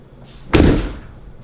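A 2016 Ford F250 truck door with power electric running boards slams shut in one loud, solid thud, followed by a brief low rumble as it settles.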